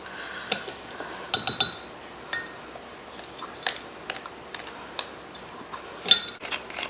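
Bath salts poured and scooped into a container, giving scattered light clinks and glassy taps with small rattling bursts, close and fairly quiet with no voices.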